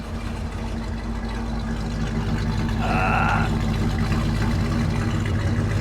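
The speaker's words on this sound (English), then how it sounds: "I'll walk around so you guys can hear the exhaust." Exhaust of a 1969 Dodge Polara with a 440 engine at idle: a steady, deep low rumble throughout, close and loud, with a brief higher tonal sound partway through.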